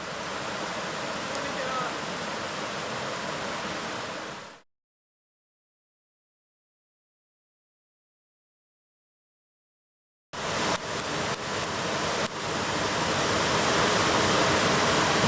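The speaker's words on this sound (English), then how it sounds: "This isn't the main waterfall, but it's very scenic here already." Steady rushing water from a scenic brook waterfall roars continuously nearby, cutting out into silence midway and then resuming with a few sharp clicks and knocks.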